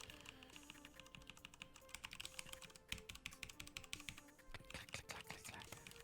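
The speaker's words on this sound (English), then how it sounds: "Here's a quick sound test of the Cherry MX" Rapid clicky keystrokes of a Cherry MX Brown mechanical keyboard patter continuously and close up, uneven in rhythm, with soft whispery speech underneath.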